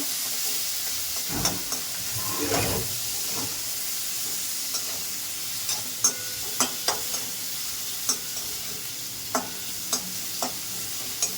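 Green chili and tomato frying in a little oil for a green tomato chutney, a steady close sizzle with scattered sharp spattering pops and brief stirring scrapes, no voices.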